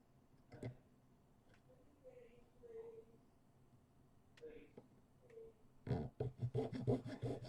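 A small model kit part, from a Bandai Tactical Pod Glaug build, is held in a jeweler's peg and filed by hand. Faint scattered scrapes give way to a close burst of quick, rhythmic rasping strokes, with low murmuring in the background.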